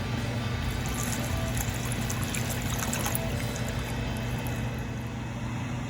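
Water is poured into a pot of sweet corn soup, a continuous, steady trickling pour in a kitchen with a low hum beneath it, no talking.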